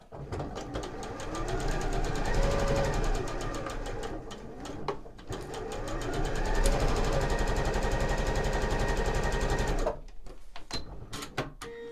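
A sewing machine runs in two long, fast bursts, stitching a quilt block seam, with a brief slowdown between them and a pause near the end followed by a few faint clicks.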